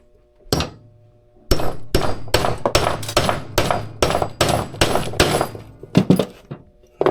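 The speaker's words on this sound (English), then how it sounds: "Hammer that down." A hammer repeatedly striking an anvil-style setting tool to crimp a 3/8-inch drainage hole through fabric for saltwater fishing gear. One sharp metallic blow comes first, then a brisk run of about a dozen close, loud strikes.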